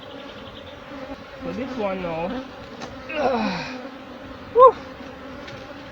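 A steady, close swarm of honey bees buzzes around an open hive during beekeeping work in Jamaica, while someone speaks briefly over the drone and a short sharp sound stands out near the end.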